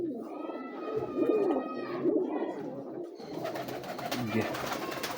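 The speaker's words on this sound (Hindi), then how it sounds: "ये भी शाम तक उड़ा हुआ कबूतर है" A large pigeon coos in soft repeated phrases at close range, with some chirps and background rustle around it.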